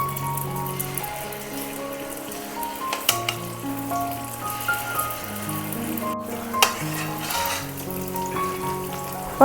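Unniyappam batter frying in a pan, a soft, steady sizzle running beneath louder background music and sounds throughout, with no talking.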